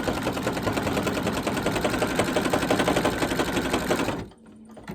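A sewing machine stitches a zigzag outline on an Easter bunny table runner, running in a steady rapid mechanical patter close by for about four seconds before stopping abruptly, leaving quiet.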